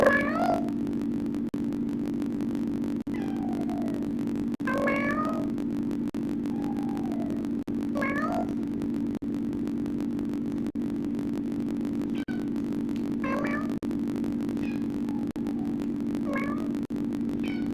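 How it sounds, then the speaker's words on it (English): A mother cat and her kittens meow back and forth, about ten short calls of varying pitch spread evenly over a steady low electrical hum, fairly close and moderately quiet. "Mom cats meow to their kittens to call them, and kittens meow to their moms."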